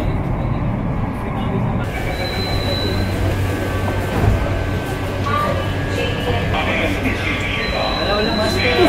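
A Mumbai underground metro train runs steadily with a continuous close rumble, wheel noise and faint high squeals, while people talk quietly over it.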